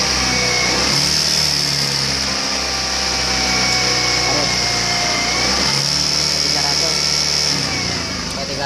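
A Honda motorcycle with PGM-FI fuel injection runs steadily at close range during a fuel pump check, a continuous high-pitched engine drone with a slight dip partway through.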